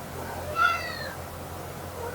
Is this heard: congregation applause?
no